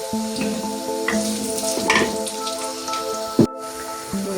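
Chopped onion frying in oil for a kochur loti (taro stolon) dish with shrimp and dried fish, a steady close crackling sizzle with occasional stirring clinks, no talking.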